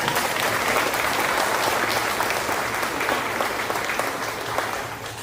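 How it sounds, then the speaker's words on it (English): An audience at a sixth-grade stepping-up ceremony gives a student a round of applause, a dense, steady wash of clapping that holds evenly and tapers only slightly toward the end. "So Camilla can come on up for a second round of applause here"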